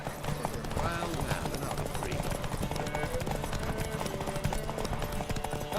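Rapid, steady hoofbeats of a galloping horse in a Witcher 3 race drum along continuously, with a busy mix of other game sounds layered around them.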